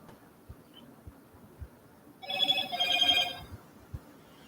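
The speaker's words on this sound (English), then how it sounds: "if you hear my phone going off" A phone rings with a bright electronic trill lasting about a second, fairly close, after a quiet stretch with faint low thumps.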